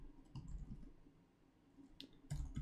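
A computer keyboard is typed on in faint, irregular clicks and short bursts of keystrokes, close but quiet against a low background hum.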